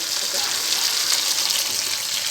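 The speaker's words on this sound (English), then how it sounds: "And now our chicken is still boiling." Chicken boiling in a pot for haleem gives a steady, close, even hiss and bubbling water rush that stays level throughout, with no talk over it.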